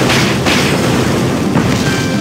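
A weapon discharges in the video game Closers, producing a loud, continuous booming blast texture with heavy low rumble and a couple of sharper bursts, sustained across the whole short stretch.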